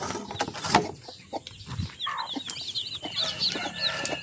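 Malaysian Serama chickens in a small backyard yard cluck in short, scattered bursts, with a few higher chirps and calls layered over quiet background noise.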